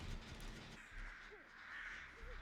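Crows cawing in a Dead by Daylight match, two or three rising caws over a steady background hum and wash of game ambience.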